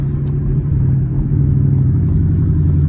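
A Ford Mustang GT with a 10-speed gearbox rumbles steadily in Sport Plus mode on a wet day, a deep, continuous, close engine burble holding an even level with no sharp revs.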